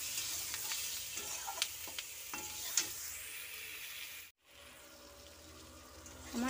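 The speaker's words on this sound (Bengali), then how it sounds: "লঙ্কা চেরা, হাফ চামচ নুন, হাফ চামচ হলুদ দিয়ে এবার এটা ভালো করে ভেজে নেব।" Chopped onion and split green chili fry in a pan with salt and turmeric, giving off a steady sizzle. Faint stirring scrapes run through it, with a short break partway.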